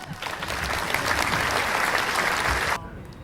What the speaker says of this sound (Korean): 조금 박수 부탁드립니다.